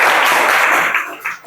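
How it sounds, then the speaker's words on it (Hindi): Children clap loudly and densely in a close group, then the claps thin and break up toward the end. "अरे ताली बजाओ भाई छोटू के लिए"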